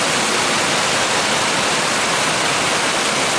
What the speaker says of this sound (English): The water coming off the house. It is coming off hard.